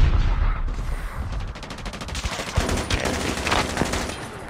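Rapid automatic gunfire in the mobile shooter Call of Duty Mobile, sustained bursts of close, loud shots rattling in quick succession with a few heavier cracks, no talking over it.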